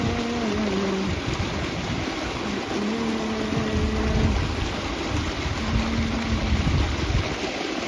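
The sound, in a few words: irrigation water flowing through a tobacco field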